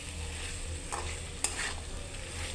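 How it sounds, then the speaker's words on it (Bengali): Fried potatoes being stirred into a pigeon meat curry masala in a pan, a steady sizzle with soft scraping strokes and one sharp clink of the spoon against the pan, no talking. "আলু দেওয়ার পর ভালো করে মিশিয়ে নেব মশলার সাথে,"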